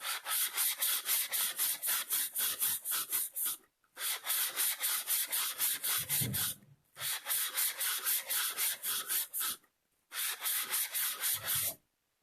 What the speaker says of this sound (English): I'll take my block, I'll stick it in my cup, and I'm going to turn like this all the way around